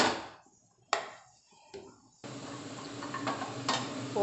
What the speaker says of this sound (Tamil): ஸோ ஒரு கடாய் ஏற்றிட்டு அந்த காயெல்லாம் அதில் போட்டுடலாம்.